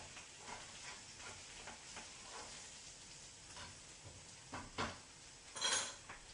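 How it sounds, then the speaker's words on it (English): King crab legs sauté in melted butter in a pan, giving a soft, steady sizzle and hiss. Faint clinks of a utensil against the pan break through now and then, the loudest near the end. "And that butter is going to really saute it now and bring it all together."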